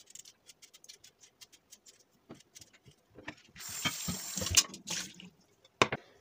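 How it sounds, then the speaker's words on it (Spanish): Water pouring from a kitchen tap into a pot for boiling potatoes, a short hissing gush in the middle, surrounded by quieter clinks, drips and handling noises of cookware at close range. "Pongo agua a cocer, no demasiada."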